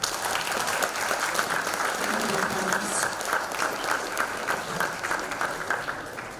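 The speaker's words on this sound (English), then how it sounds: "a huge round of applause once again to Geeta, Aurangil and the entire panelists here on stage" Sustained audience applause for the panelists of a women-in-supply-chain-and-logistics discussion, a dense steady wash of clapping from a seated crowd that holds evenly throughout and tapers slightly at the very end.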